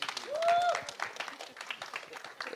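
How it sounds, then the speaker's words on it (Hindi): Applause from an audience at a film trailer launch, a steady patter of many hands clapping, with a brief whistle rising above it near the start. "एक बार पाजी के लिए एक बार तालियां हो जाए"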